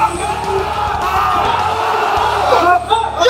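Loud gym crowd at Diamond Gym screaming and yelling during a heavy squat, a dense wall of shouting voices close by that stays intense throughout with no pauses.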